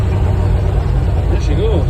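A 1960 International B130 truck engine turning over on its spring first start, giving a loud, steady low rumble throughout.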